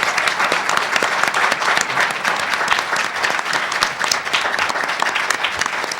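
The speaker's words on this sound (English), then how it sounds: "A round of applause, please, for our judicial candidates." Audience applause for judicial candidates at a county judicial debate, a steady dense round of clapping that holds strongly for the full six seconds with no talk over it.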